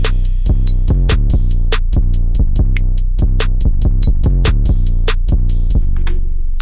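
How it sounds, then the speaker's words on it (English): Deep 808 bass booming under a hip-hop beat, with crisp hi-hats and snappy drum hits ticking in a steady, fast pattern throughout, loud and alone. "All right, so with the 808, it all sounds like this."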